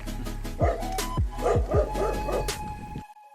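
A dog barks several times in quick, uneven bursts close by in an Italian forest, with a few yips mixed in, then it goes quiet.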